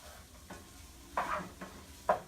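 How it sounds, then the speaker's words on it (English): Brussels sprouts sautéing in a little olive oil in a pan, a soft steady sizzle with a few stirring scrapes and brief louder bursts, close and alone with no talk. "Cooking these up."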